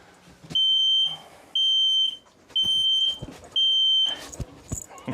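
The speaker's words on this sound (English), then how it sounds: "Right here is propane tester, test for propane. And it goes through a cycle." A propane detector alarm in a 2021 Keystone Bullet 290BHS travel trailer runs through its test cycle. It gives four loud, piercing, evenly spaced half-second beeps, with small handling noises in between.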